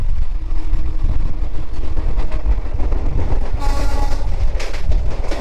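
The Tebhaga Express passenger train on the Kolkata to Balurghat run, a loud continuous rumble of wagons rolling past close by, with bursts of higher rattling and clatter toward the end.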